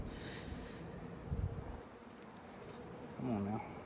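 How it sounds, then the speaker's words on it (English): Honey bees buzz around an open hive during a spring hive inspection, a steady insect drone with a louder pass of a bee close by near the end, outdoors and fairly faint. "These bees work hard."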